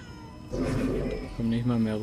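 A cat meows twice in the video game Murdered: Soul Suspect, the drawn-out cries fairly loud and close, with someone talking over them.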